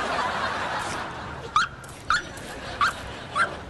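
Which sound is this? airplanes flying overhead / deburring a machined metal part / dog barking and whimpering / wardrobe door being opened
dog barking and whimpering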